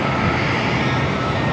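WestJet airplane in special livery taking off at LAX, a steady, broad jet engine roar heard from a distance with no talking.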